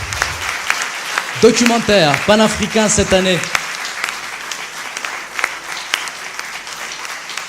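Audience applause at the 2017 RFC12 closing ceremony, a dense, continuous wash of clapping from a large crowd, with an announcer speaking over it in the first seconds.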